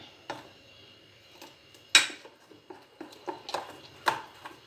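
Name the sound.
stirring eggless cake batter with hot chocolate powder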